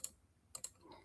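Several sharp clicks of keys being typed on a PC computer keyboard, a few spaced strokes over about a second, close and fairly quiet with no talking.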